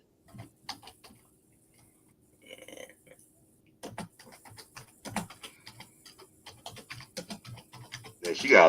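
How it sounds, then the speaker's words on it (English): Keyboard typing arrives as scattered clusters of quick, light clicks, some sparse and some dense, with faint talk and other noises in the background. "I hear a lot of typing."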